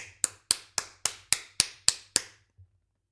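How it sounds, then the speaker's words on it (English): Eight sharp, evenly spaced hand claps ring out one after another in a quiet room, crisp and close, followed by a faint softer tap and then silence. "Everybody give Eric a clap. Good claps. Good firm ones too."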